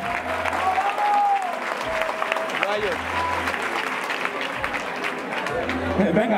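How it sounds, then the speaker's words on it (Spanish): Audience applause for the MCs after a freestyle rap battle round in Spain, a dense, steady burst of clapping lasting several seconds with crowd noise and a voice talking over it. "Oye, un aplauso para los MCs"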